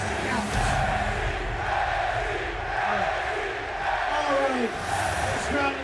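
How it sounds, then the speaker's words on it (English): A wrestling crowd in West Hollywood roars and shouts steadily at a live show, a loud, continuous wash of cheering and yelling voices with no break. "This crowd in West Hollywood's going crazy."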